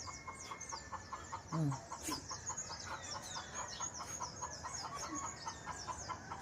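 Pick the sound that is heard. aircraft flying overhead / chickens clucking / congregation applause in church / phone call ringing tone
chickens clucking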